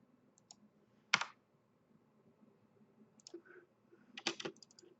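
A computer mouse clicks while terrain is being modelled in SketchUp: quiet, close, sharp clicks, one isolated near the start and a quick burst of several rapid ones near the end, with faint soft handling in between.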